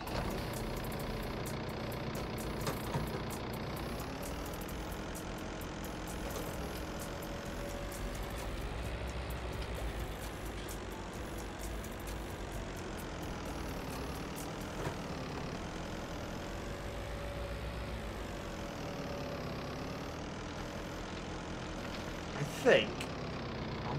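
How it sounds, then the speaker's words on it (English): A tractor engine idles in Farming Simulator 19 with a steady, low, droning hum that wavers slightly in pitch, moderately quiet and continuous for the whole stretch. "Let's turn the tractor off."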